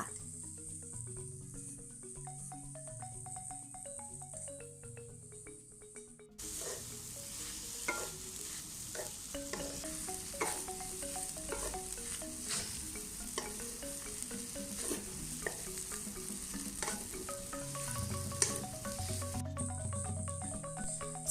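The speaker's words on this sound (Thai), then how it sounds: "ใส่ข้าวกล้องไรซ์เบอร์รี่ลงไปค่ะ แล้วผัดให้เข้ากันค่ะ" Riceberry brown rice tossed in a hot pan for crab fried rice, a steady sizzle laced with scraping stirs and clinks, with soft background music playing throughout.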